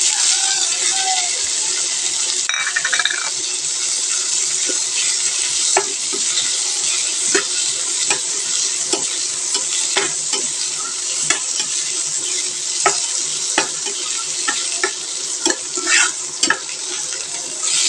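Coriander leaves being stirred into frying taki fish bhorta in a pan, a loud continuous sizzle broken by regular spatula scrapes and clicks against the metal.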